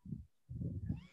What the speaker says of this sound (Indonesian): Suara kucing lapar.